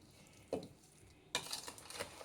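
A batch of fresh avakaya mango pickle is mixed and turned by hand, giving two soft, wet squelching bursts, the second longer and more textured, close and quiet with no talk.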